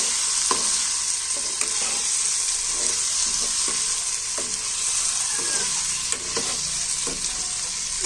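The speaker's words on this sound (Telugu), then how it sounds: "ఒక్కసారి అటు ఇటుగా ఒకసారి తిప్పుకుంటే చాలు." Egg curry sizzles loudly in a frying pan, with a steady hiss of hot oil and a regular series of spatula scrapes and taps as the mixture is turned over. Nobody speaks.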